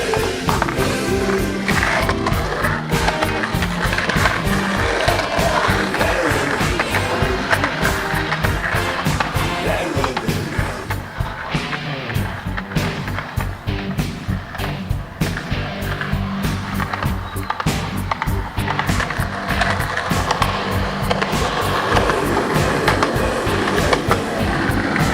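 Skateboard on Powell Peralta Dragon wheels rolling along a town sidewalk, a loud, steady, close rumble with rhythmic clacks as the wheels cross pavement cracks, continuing throughout.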